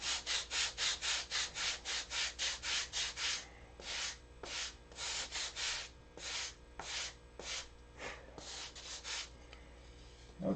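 80 grit sandpaper rubs over a wooden canopy in quick regular back-and-forth strokes, then slower, more uneven passes, close and fairly quiet.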